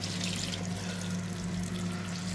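Tap water running while cooking jackfruit and beans, a steady quiet splashing stream over a low appliance hum, with no talk.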